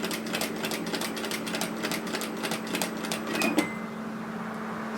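Sewing machine stitching binding onto a bias-cut slip nightgown, a fast, even mechanical chatter of needle strokes with a low motor hum that runs about three and a half seconds, then fades to quiet hum.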